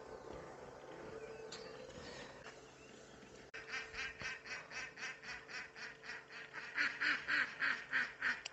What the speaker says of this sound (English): watch the ducks playing around